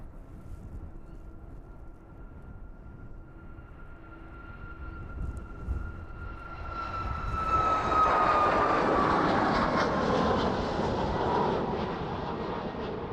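Aircraft approaching the runway at East Midlands Airport in the evening, starting as a faint distant hum and swelling into a loud, broad engine roar that peaks and lingers as it passes close by.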